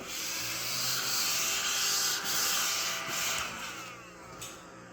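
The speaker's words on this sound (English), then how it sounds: "we've got it sanded down rather nicely there" Steady abrasive sanding on the wooden hull of a Model Shipways dory model boat, a continuous scratchy rasp with back-and-forth strokes that eases off toward the end.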